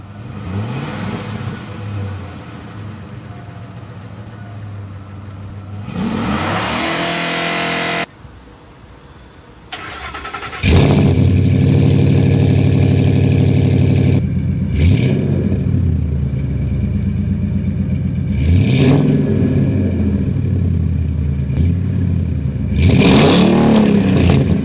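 A 2006 Ford F150 fitted with an MBRP XP Series 3-inch dual rear-exit cat-back exhaust starts up and idles with a deep rumble, then is revved repeatedly in loud surging bursts after a short pause, with no talking.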